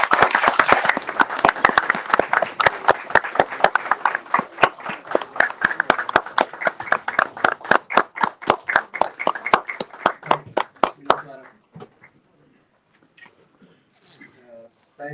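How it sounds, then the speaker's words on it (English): A conference audience gives a big round of applause, dense clapping that gradually thins out over ten seconds before a brief murmur of voices. "With a huge round of applause, Dr. Naseem Baloch, please."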